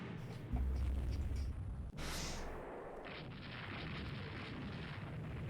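A torpedo strikes a ship in the naval strategy game Rule the Waves 3, giving a loud, sustained rumbling explosion that booms at first and then settles into a continuous roar, with no voices.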